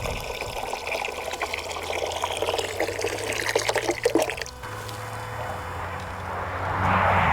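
Water fills a water cube container with a steady, close rush and splash. Partway through, the sound shifts to a smoother, deeper fill as the level rises.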